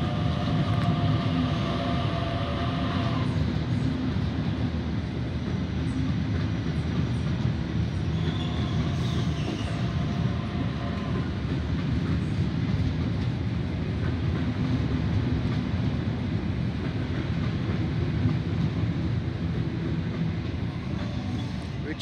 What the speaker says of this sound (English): Here we have Richmond service passing platform number 4.